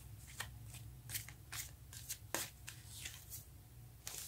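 Tarot cards are shuffled by hand, giving quick, crisp riffling bursts repeated in an irregular rhythm. The sound is soft and close.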